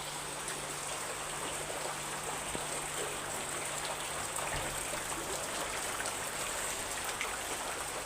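Rain falls over floodwater around a house, a dense steady hiss of drops with no breaks, even and continuous at moderate loudness and with no voices.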